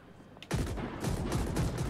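A riot gun firing in a video game, with a sudden burst at about half a second followed by a rapid, sustained fusillade of loud shots.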